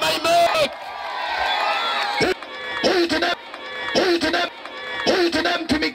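A church congregation at a revival meeting in Tukuyu breaks into loud crowd noise, with bursts of clapping and high ululating cries mixed with voices and chatter.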